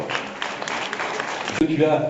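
A crowd at a prize-giving podium ceremony claps steadily in a dense patter, then the applause thins as a voice begins speaking over it.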